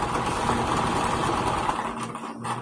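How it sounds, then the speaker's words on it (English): A sewing machine stitches a dish towel with wrong sides facing out, a steady close motor whir and needle chatter running almost unbroken before easing off briefly near the end. "Okay, now we're going to sew this up."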